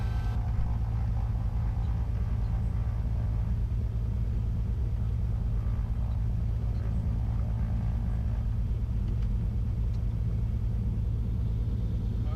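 A small airplane's engine drones steadily from inside the cabin on a runway, a constant low rumble with no change in pitch and no one speaking over it.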